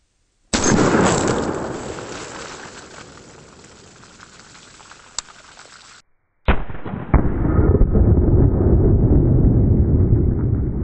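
A single loud Glock 19 pistol shot fired outdoors with 9mm ammunition, a sharp close blast followed by a long decaying rumble, then a second burst of noisy rustling or spray near the mic.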